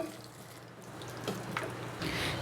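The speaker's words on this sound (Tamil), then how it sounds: "கொஞ்சமாக தண்ணி சேர்த்துக்கோங்க." A small amount of water, about a quarter tumbler, poured into a pan of onion curd gravy, a brief splashing trickle rising near the end over a quiet background.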